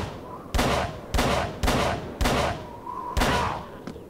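Gunfire in the video game Call of Cthulhu: six loud, sharp shots spaced about half a second apart, each with a short ringing decay, followed by a faint final crack.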